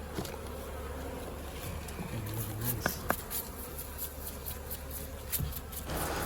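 Honey bees buzz around wooden beehives in a constant close hum, with individual bees zipping past the listener now and then, and no voices.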